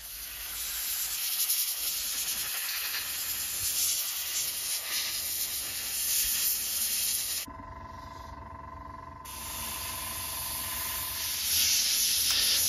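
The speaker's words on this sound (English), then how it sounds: "So I'll go all the way over the stones to get the coverage that I feel I need prior to airbrushing." An airbrush sprays paint across the stones of an Omaha Beach D-Day diorama, giving a continuous close, soft airy hiss that briefly drops to a quieter, thinner tone midway before returning.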